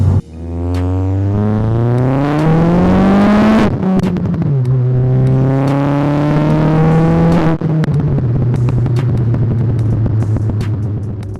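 A Stage 3 Ford Fiesta ST hot hatch tuned past 340 bhp pulls hard on full boost, its engine note loudly rising through the revs, dipping at gear changes, then climbing again, heard from inside the car.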